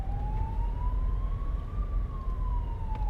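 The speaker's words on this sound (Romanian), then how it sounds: "Și sirenele se aud încet." An emergency vehicle siren heard faintly from inside a well-insulated BYD Sealion 7 electric SUV, one long wailing tone rising and then falling over a steady low road rumble.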